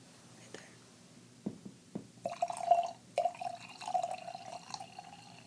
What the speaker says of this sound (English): that is the most satisfying wine pour sound